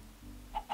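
Chickens in a video game give two short clucks close together, faint and brief over a low background hum.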